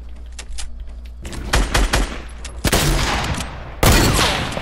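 Minigun fire in a video game, heard as rapid bursts that start faintly, build into louder sustained volleys and end in a sharp, loud final burst, with no voices.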